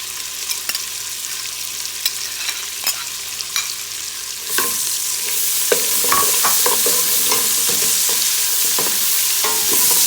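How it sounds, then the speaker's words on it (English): Onions frying with bacon in bacon grease in a pot, a bright steady sizzle that swells louder midway, with intermittent scraping stirs, close up and fairly loud. "we're going to fry them in the bacon grease with the bacon until they're tender"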